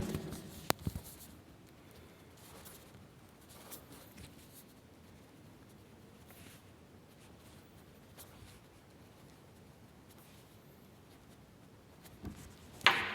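Chalk or marker writing on a classroom board during a teaching session, a soft continuous scratching and rubbing at low level, with a couple of sharper taps near the start and end and no talk over it.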